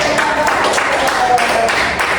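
Classroom applause from students after a group dance performance, a steady dense patter of many hands clapping at close range for a couple of seconds.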